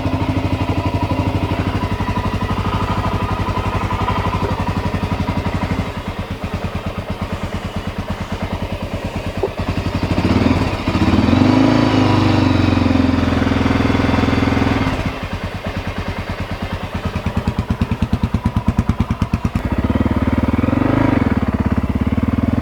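A Honda XR600R motorcycle engine runs on half choke with a loud, close, lumpy single-cylinder thump. It surges and dips through several revs before settling toward a rough idle, with no talking.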